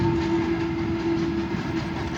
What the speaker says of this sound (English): It's an old train.